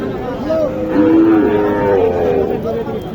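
A young Gir calf at a village cattle market in Naogaon, Bangladesh, gives a close, drawn-out moo lasting about two seconds, with faint crowd murmur behind it.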